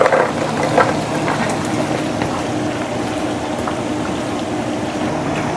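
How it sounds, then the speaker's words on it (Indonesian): Garlic frying in a pan while chicken and shallots are cooked for Indonesian grilled chicken, giving a steady, close sizzling hiss that stays even throughout. "Kita masukin bawang putih juga."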